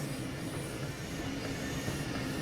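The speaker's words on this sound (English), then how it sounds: "one of the long-distance trains in the Frankfurt timetable, the Class 411, better known as the ICE-T" A Class 411 ICE-T long-distance train running through the Frankfurt area in Train Sim World 6, a steady loud rolling rumble with broadband rail noise and a faint tonal whine, continuous throughout.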